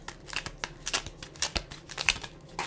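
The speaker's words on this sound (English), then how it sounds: "let me shuffle this deck and draw a crystal card for y'all." A deck of crystal oracle cards being shuffled up close: a quick run of crisp, papery riffling clicks and slaps, irregular and dense, with no talking.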